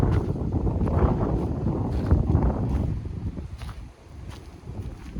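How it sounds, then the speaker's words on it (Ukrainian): Strong wind with light frost buffets the microphone in loud, rumbling gusts over a wheat field, easing briefly before picking up again. "Вітер з невеликим морозом."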